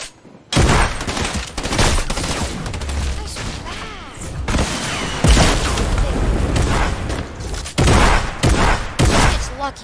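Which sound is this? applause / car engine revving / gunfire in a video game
gunfire in a video game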